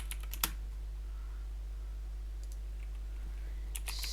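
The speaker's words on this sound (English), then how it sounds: "Type in city background." Keys clatter on a computer keyboard in short bursts of clicks, soft and close, with quiet gaps between them over a low steady hum.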